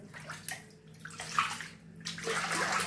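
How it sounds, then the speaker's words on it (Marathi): Water sloshes and splashes continuously in a flooded home kitchen, close by, with a steady low hum underneath and no voices. "बघा कसं सगळं पाण्याने भरलंय किचन।"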